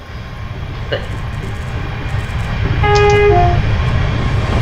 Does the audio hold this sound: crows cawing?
no